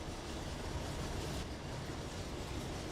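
CSX locomotive running in the Trainz train simulator, a steady broadband rumble of rolling rail noise with no distinct clatter, constant level throughout and no talk.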